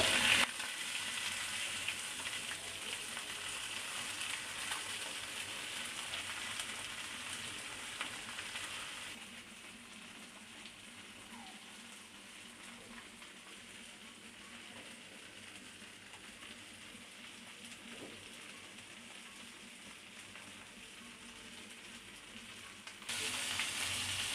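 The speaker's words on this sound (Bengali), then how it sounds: "আমার মাছ ভাজা হয়ে গেছে, এবার আমি এগুলোকে উঠিয়ে নেব" Katla fish fries in hot oil with a constant crackling sizzle, louder at first, softer through the middle, then rising again at the end.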